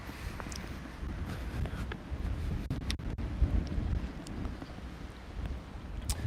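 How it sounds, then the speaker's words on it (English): Wind buffets a microphone outdoors on a windy day, a steady low rumble of gusts with a few sharp pops and thumps, loud and continuous with no talking. "This is going to be a little bit of a challenge today because it is windy."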